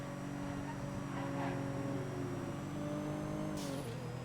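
A steady video game car engine hums and drones at an even pitch, with a brief higher whoosh near the end, no talking.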